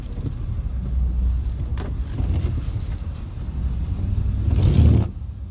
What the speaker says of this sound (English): This traffic is nuts, yo.